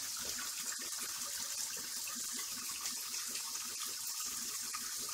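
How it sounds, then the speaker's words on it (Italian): Cold water runs steadily from a bathroom tap into a sink during a wet shave, a continuous close hiss and splash with no talking over it. "Allora, adesso acqua fredda."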